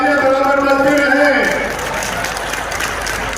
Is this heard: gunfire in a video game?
no